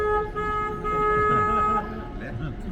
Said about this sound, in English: I gotta honk my horn.